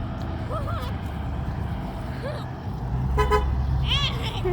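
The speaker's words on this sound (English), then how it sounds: "Do the honk." Car horn honking on a road, with a couple of short toots standing out over rumbling traffic and faint voices nearby.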